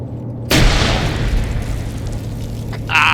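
A video game grenade goes off with a sudden loud boom that rolls into a long, fading rumble, and a second burst of noise follows near the end.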